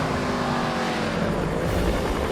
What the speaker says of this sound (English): the sound of its thunderous 3-litre straight-8 engine